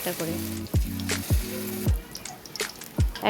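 Battered stuffed pointed gourd pieces sizzle in hot oil, a close crackling fry broken by a few sharp drops and clunks, with a tonal hum in the background.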